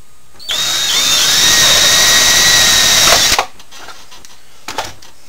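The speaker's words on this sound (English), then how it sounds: "This requires a 5/8 inch, and I'm using basically these to drill them out." A power drill bores a 5/8 inch hole through a jar for a shop workbench reservoir, whining loud and steady for about three seconds before stopping abruptly, followed by a couple of faint clicks.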